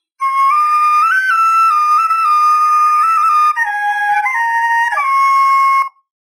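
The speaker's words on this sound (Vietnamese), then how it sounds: "Tiếng sáo phát ra từ cây sáo." A Vietnamese bamboo flute plays a clear, bright melody of sustained, breathy tones that step up and down in pitch, solo and close, lasting about six seconds.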